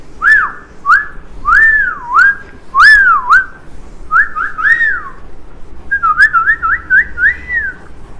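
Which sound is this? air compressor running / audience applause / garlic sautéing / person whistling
person whistling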